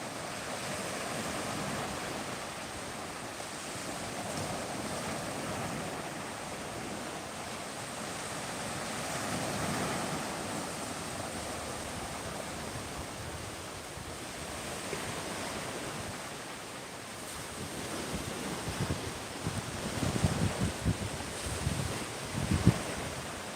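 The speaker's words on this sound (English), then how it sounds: "we're going to take a 30-second break here for the sound of the ocean" Gulf of Mexico surf rolls onto Clearwater Beach in Florida, a steady wash of waves with wind buffeting the microphone. The surge grows rougher and closer toward the end.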